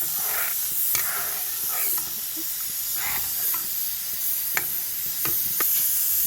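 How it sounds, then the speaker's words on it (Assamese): Potatoes fry in a pan as they are stirred, a constant bright hiss and sizzle with scattered scraping and tapping of the spoon, close and even in loudness. "আলুখিনি দি মই এতিয়া লৰাই দিছোঁ অকণমান"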